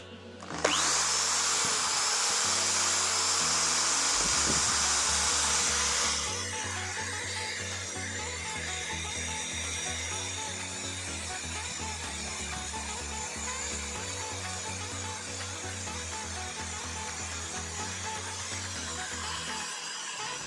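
A DCA AZJ16 impact drill runs continuously during a vibration test, a loud, close, steady whine that eases to a lower, rougher drone partway through and keeps going to the end.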